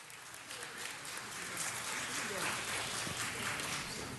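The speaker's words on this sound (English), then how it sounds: "Could we give them all a round of applause?" A city council meeting audience applauding for members of Delta Sigma Theta, steady broad clapping from a room-sized crowd held at moderate level for the whole stretch, heard at some distance.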